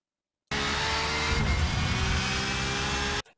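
Porsche or Ferrari GTE race car in a racing video game, engine roaring hard under acceleration with rising pitch and a brief shift, loud and close, starting and stopping abruptly, no talk.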